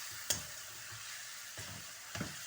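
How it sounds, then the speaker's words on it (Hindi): Chicken frying with masala, green chilli and ginger-garlic paste in a karahi, a low steady sizzle broken by a few sharp spoon scrapes and knocks as it is stirred, close and fairly quiet. "इसको मैं अच्छी तरह भूनूंगी चिकन को"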